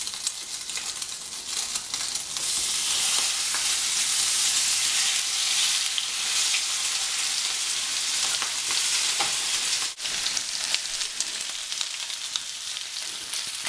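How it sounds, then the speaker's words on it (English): Steak frying in a hot pan gives a steady, close sizzle that holds loud and even throughout, with a brief dip near the end. "We want the steak to sizzle, to really fry, not to bake or to boil."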